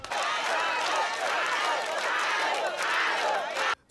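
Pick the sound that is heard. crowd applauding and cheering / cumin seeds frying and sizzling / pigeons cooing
crowd applauding and cheering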